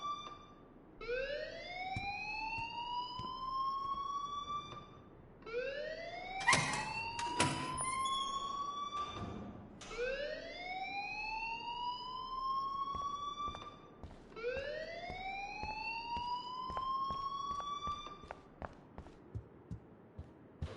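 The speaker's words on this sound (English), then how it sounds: "please turn off that alarm since that's your job" School alarm in the Life is Strange video game, a loud rising wail repeating in long swells about every four seconds, with a few clattering sounds mixed in.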